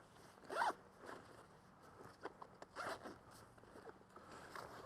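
A zipper on a Marsupial Gear upland hunting vest is worked in several short pulls, faint and close, with scattered rustling of the fabric between strokes.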